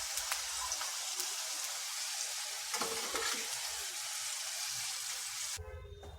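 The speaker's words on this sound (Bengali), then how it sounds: "গাজরটাকে একটু ভালো করে ভেজে নিলাম।" Carrot pieces fry in hot oil in a pan with a continuous crackling sizzle and occasional spatters, fairly close and steady, fading toward the end.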